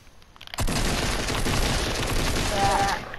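Gunfire in the video game Fortnite: a sudden, loud burst of rapid shots erupts after a quiet start and keeps hammering continuously, close and dense, with voices faintly in the background.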